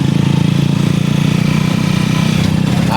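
A TMX 125 motorcycle, just repaired after its starter failed, runs loud and close with a steady throbbing idle that holds unchanged throughout.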